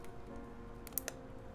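A couple of sharp, close key clicks on a Duck TC-V3 mechanical computer keyboard as the backspace key is struck, over a steady low room hum.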